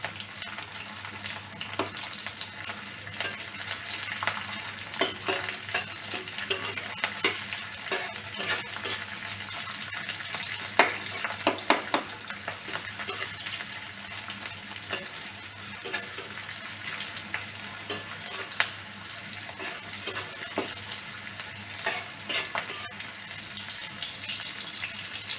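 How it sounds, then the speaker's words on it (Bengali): Chopped onions and green chillies fry in hot oil with white cardamom and a cinnamon stick, giving a steady close sizzle and crackle with occasional stirring scrapes and no talking. "তো পেঁয়াজটাকে ভেজে নেওয়া হচ্ছে।"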